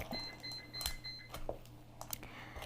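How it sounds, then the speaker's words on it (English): A kitchen oven beeps to signal that preheating is done while cookie dough is being made, with a few faint, thin electronic tones among quiet clatter and handling noises, all at low level. "Our oven is done preheating, if you guys heard that beep."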